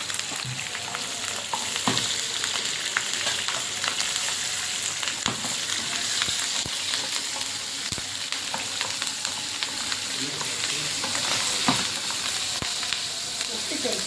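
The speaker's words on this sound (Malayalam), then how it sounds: "ഇനി ഇതിലേക്ക് നമുക്ക് ഒരു ഒരു പതിനഞ്ച് പച്ചമുളക് ഇതും കൂടെ അതേപോലെ കുറച്ച് വാട്ടിയെടുക്കും" Fifteen green chilies fry in oil for a bitter gourd pickle, giving a continuous close sizzle broken by the scrape and clack of stirring.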